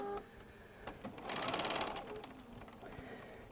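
A sewing machine stitches Christmas stocking fabric in a brief, close whirring run of rapid needle clatter, faint overall and preceded by a few soft clicks.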